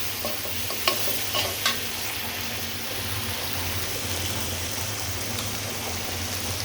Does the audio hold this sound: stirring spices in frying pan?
yes